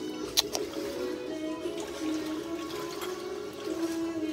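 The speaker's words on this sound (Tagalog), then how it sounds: "Grabe, ang laki ng tubig," Flood water rushes steadily in a Philippine waterway, a continuous watery roar with a faint trickle, close and fairly loud, with a brief clatter near the start.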